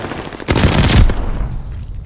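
Loud burst of automatic gunfire at a Hardpoint objective in Call of Duty: Vanguard, rattling for about a second before tapering into fainter shots and game noise.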